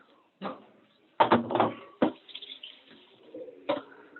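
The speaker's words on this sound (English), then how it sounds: "I'm going to rinse my sieve out real quick" Water from a kitchen sink tap splashes over a sieve being rinsed, arriving in several short irregular bursts with brief clatters of the strainer, close and moderately loud.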